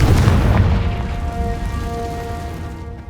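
A Confringo fire spell blast in Hogwarts Legacy: a loud booming burst that opens at full strength, then gives way to a sustained rumbling roar that tapers slowly over a few seconds, with no talking.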